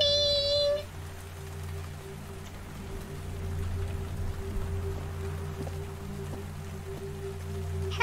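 Steady game rain in the fan-made game nameless, a soft continuous patter of drops on surfaces that holds evenly throughout, with a brief musical tone at the start.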